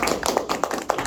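A room of kids and adults at a motivational talk clap together, a steady patter of many hands at moderate distance, brief and without a break.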